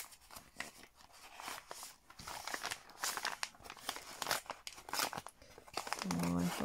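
A received parcel is opened with repeated crinkling, tearing and crunching of packaging, irregular close bursts that end in a brief low clunk.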